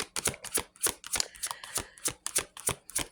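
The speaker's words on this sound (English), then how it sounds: "Hold on, let me get all the cards out." Tarot cards being handled and dealt out, a rapid series of crisp, close flicks and slaps arriving in a regular rhythm, roughly a dozen sharp bursts with near silence between them.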